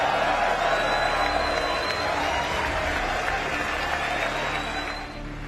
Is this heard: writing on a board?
no